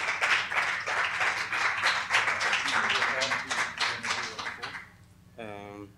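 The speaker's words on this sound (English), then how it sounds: "let's give a rousing applause for Brother Rudolph Valentino Breland" Applause from an audience at a 1997 poetry recital in the San Francisco Public Library, a dense steady clatter of many hands for several seconds that fades out, followed by a brief voice.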